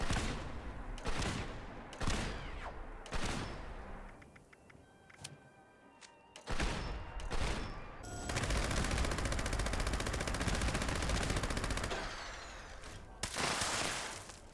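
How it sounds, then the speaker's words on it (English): Gauss rifle shots with Grenadier-boosted explosions in Fallout 76, loud sharp blasts at irregular intervals, then a long stretch of continuous rattling gunfire and booming impacts, with no talking. "The notes say that Grenadier now works with Gauss rifle explosions."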